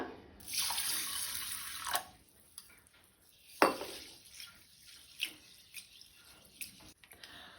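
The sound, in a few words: rice and moong dal being washed in water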